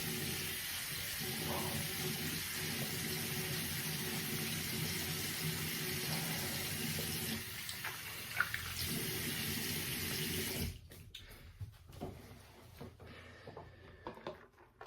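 A tap runs steadily into a sink while a brass razor head is rinsed between shaving passes. The water stops partway through, followed by a few faint knocks and handling sounds.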